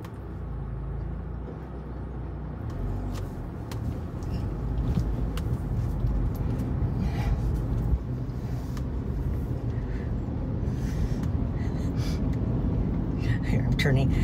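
A car drives along a road, its steady engine and road rumble running continuously at close range beneath near-constant talk inside the cabin.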